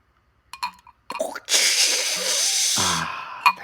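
A voice mimics a Guinness can's widget: a few short mouth clicks and breaths, then a long, loud, close hiss that fades into a low gurgle, with a final click.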